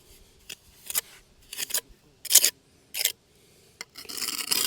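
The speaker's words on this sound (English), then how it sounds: "periodically scraping off the excess so the joint doesn't stick out a whole lot beyond the stone face itself" A trowel scrapes excess mortar from a stone joint on a hand-built stone cabin foundation, giving short, sharp gritty rasps in separate bursts with quiet gaps, ending in a longer scrape, close and fairly loud.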